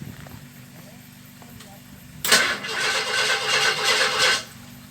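A 1961 narrow gauge Bombardier engine cranks and catches on a cold start, breaking into a loud, rough burst of running that holds for about two seconds before cutting back.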